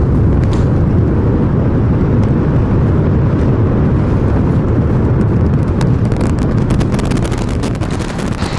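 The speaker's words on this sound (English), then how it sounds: "We have liftoff. Go Super Heavy. Go Starship." A SpaceX Starship atop its Super Heavy booster lifts off from Pad 1, a loud, continuous crackling roar that saturates the air and stays relentless for the whole stretch, with harsh popping bursts building toward the end.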